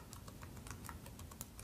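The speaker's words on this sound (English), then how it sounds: "And now I'm going to type" Keys clicking on a computer keyboard while a web address is typed into a browser, a quick uneven run of light taps close up, with no voices.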